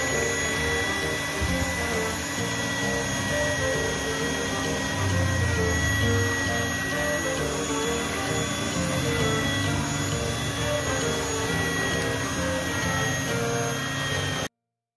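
An electric mixer beats cookie dough for kastangel cookies at low speed, a steady whirring motor hum with a constant mechanical drone that runs close and unbroken almost the entire clip.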